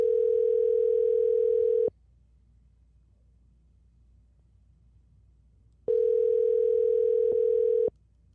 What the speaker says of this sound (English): Let's see if we give him a call.